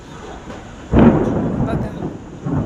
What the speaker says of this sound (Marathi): आभाळ गरजत आहे.